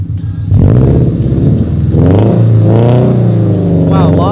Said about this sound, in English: drive the car around